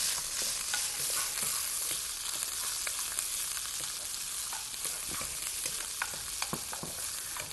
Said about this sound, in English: I'm going to toss in the soya